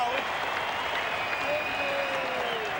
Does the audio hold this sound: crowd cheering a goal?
yes